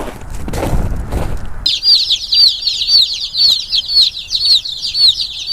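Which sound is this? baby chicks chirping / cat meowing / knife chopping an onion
baby chicks chirping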